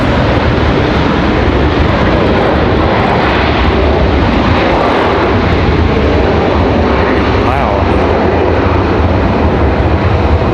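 Loud, sustained roar of jet engines from airplanes landing close by at Raleigh-Durham International Airport, a heavy continuous rumble that holds steady across the whole stretch.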